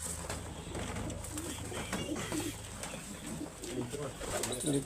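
Pigeons cooing softly nearby amid a busy outdoor background, with faint voices and low rumbling noise throughout.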